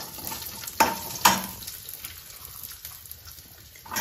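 Ginger, garlic and slit green chilies going into a hot pan for methi malai matar, with two sharp spattering bursts followed by a quieter steady sizzle and faint stirring, close by.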